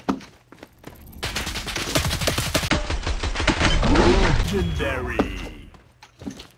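Rapid KS416 rifle bursts in an online shooter game crackle in dense, close volleys that swell and fade over several seconds, with a voice talking near the end.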